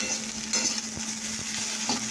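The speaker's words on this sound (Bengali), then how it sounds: "আলু ভাজাটা প্রায় হয়ে এসেছে, দেখতে পাচ্ছ" Potatoes fry in oil with salt, turmeric and dried red chilli, a steady close sizzle with a few soft stirring scrapes and no voices.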